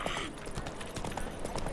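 Horse hooves clip-clop in a steady galloping rhythm while riding in The Witcher 3, running under a short burst of speech and game ambience.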